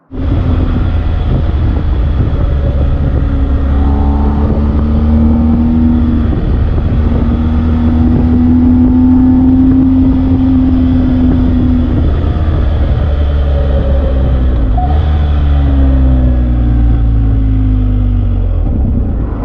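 A motorcycle on its very first ride, nearly hit head-on by an oncoming car: loud, close engine drone throughout, its pitch rising and falling with speed, with a deeper rumble underneath and no talking.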